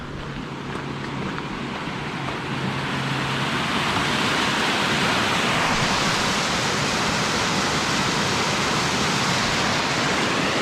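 A small bush creek crossed on a track on the Rocky Pool walk gives a steady, full rush of flowing water, close by and growing a little louder after the first few seconds, with no one talking.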